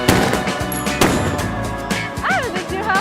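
Gunshots from a handgun at a shooting session, loud sharp reports roughly a second apart, layered over ambient noise, with a brief whistle-like tone near the end.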